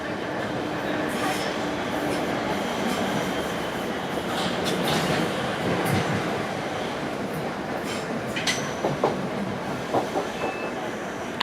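Steady rumble of a train ride toward Petts Wood in London, with a continuous broadband roll, faint rhythmic wheel clatter and occasional brief squeals near the end, close and enclosed with no talk.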